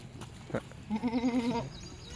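Kathiawari goats bleat once in a clear, wavering call that trembles for about half a second, fairly close, with a short sound just before it against quiet background.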